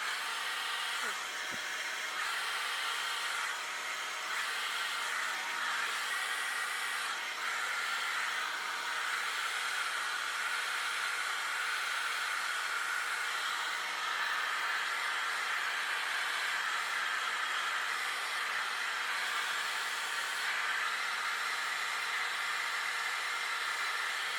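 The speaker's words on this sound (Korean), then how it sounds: "드라이기로도 이제 마무리했고" A hair dryer blows steadily at close range, a constant airy roar that holds for the whole stretch.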